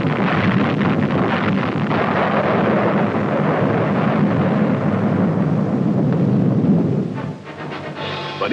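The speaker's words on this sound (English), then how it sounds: "a successful test of a new 280mm shell opened a new era, the era of atomic artillery" A 1953 test firing of a 280mm atomic artillery shell: a massive, sustained low roar rumbles continuously for several seconds before abruptly thinning out near the end.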